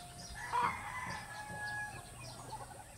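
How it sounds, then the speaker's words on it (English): On a farm with roosters and hens, a fowl gives a brief, fairly faint cry early on, followed by soft scattered clucks over a low outdoor background. "Here are some roosters."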